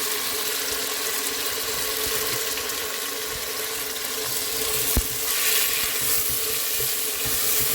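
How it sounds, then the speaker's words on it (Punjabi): Tomatoes and green chillies frying with ginger in a cooking pot, a steady broadband sizzle running throughout with soft stirring scrapes and one sharp utensil knock partway through; no voices. "ਇਹਦੇ ਵਿੱਚ ਸ਼ਾਮਿਲ ਕਰ ਦਾਂਗੇ ਟਮਾਟਰ ਹਰੀ ਮਿਰਚ"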